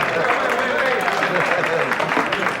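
Broadband crowd applause with scattered claps at an ice hockey gathering, steady and moderately loud throughout with voices mixed into the din.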